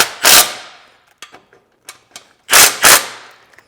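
Bolts on a Yamaha T7 radiator frame guard are snugged down with a ratchet, giving a couple of loud close bursts of rapid clicking separated by softer taps and small metallic knocks, with no speech.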